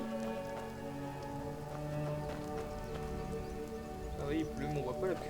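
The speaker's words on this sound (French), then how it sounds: "Il pleut." Rain falls in the video game Skyrim as a soft, steady patter under layered game music and tonal sounds, with a faint clip-clop of hooves and a voice speaking near the end.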